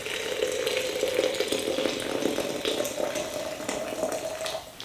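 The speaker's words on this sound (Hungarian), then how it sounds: "Forró, de nem lobogó vízzel felöntöm," Hot but not boiling water is poured steadily over St John's wort herb in a container for about half a litre of tea, a continuous close splashing pour with no talk.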